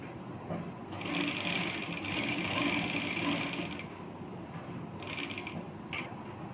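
A sewing machine stitches salwar fabric in a steady rapid run of about three seconds, then two short bursts, close but fairly quiet over a low room hum.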